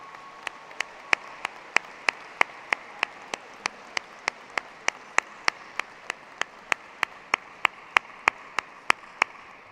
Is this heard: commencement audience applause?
yes